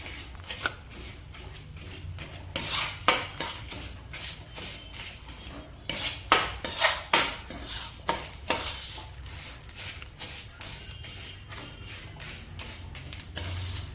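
Food is mixed in a dish with a metal utensil in a home kitchen, giving quiet, irregular scraping and clinking strokes that continue steadily, with a few louder knocks against the dish.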